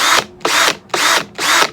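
A drill driver set to hammer mode runs in four loud, close bursts of rattling, buzzing whir, with short pauses between them.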